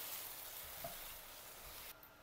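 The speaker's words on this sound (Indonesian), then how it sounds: "Panaskan minyak goreng lalu kita goreng ayamnya." Oil sizzles and crackles steadily as chicken fries in hot oil, a soft continuous hiss with no talking.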